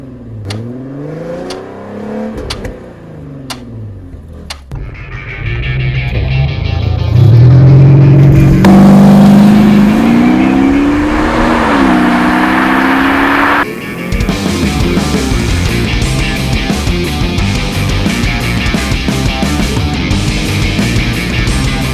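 An Audi A7 with a 3-litre engine revs loudly and close up, climbing in pitch through several rising surges before settling into a steady, harsh roar that continues to the end.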